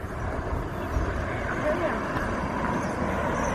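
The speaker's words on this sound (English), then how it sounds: "this is a fairly busy highway, and so I apologize for the noise." Steady roar of traffic on a busy highway at dusk, a dense continuous rumble and hiss of passing vehicles with no breaks, fairly loud and close.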